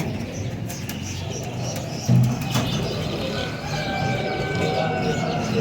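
Pigeons cooing at a bird market shop in Karachi, low soft coos and a few chirps over a busy background, with brief handling noise.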